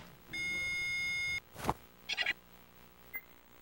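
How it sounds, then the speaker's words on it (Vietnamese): A computer error beep from a repair shop video game: a loud, clean electronic tone lasting about a second, followed by a few brief clicks and short chirps at low level. "Có tiếng bíp, lỗi nặng rồi."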